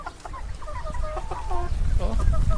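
Hungry chickens cluck and chatter together in a busy, close flock, the calls overlapping and growing louder over rustling and handling noise.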